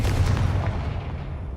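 A Confringo blast spell in Hogwarts Legacy goes off as a loud, close booming explosion with a deep rumbling tail that fades over a second and a half.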